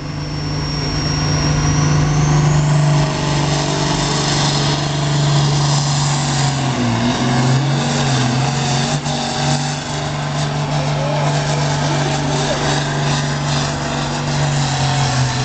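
A 361-cubic-inch engine at a tractor pull roars loud and steady, its deep droning note shifting pitch midway as it revs, with constant crowd-scale noise around it.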